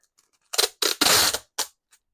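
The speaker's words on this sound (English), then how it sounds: "there's going to be some tape noises." Strips of tape ripped off a sewing table to lift fuzz, four short close tearing bursts with a longer pull in the middle, fairly quiet, no talking.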